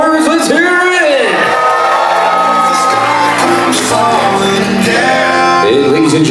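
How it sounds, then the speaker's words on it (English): Wedding reception guests cheer, whoop and shout together in a loud, sustained crowd roar. Voices rise and fall across the whole stretch with no break. "a huge round of applause for Shani and those wonderful words. Let's hear it!"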